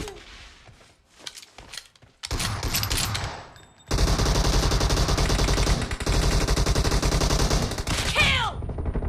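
Rapid gunfire from a shooting video game in a team deathmatch, with bursts of automatic fire that start sparse and build into sustained loud shooting, ending in a sweeping effect.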